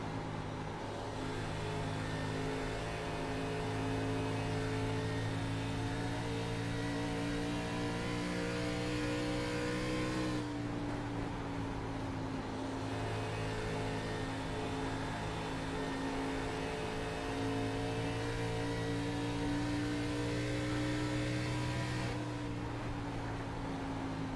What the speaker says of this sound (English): go on board with Andy Kurtz, see what I always like to show y'all what it looks like inside the car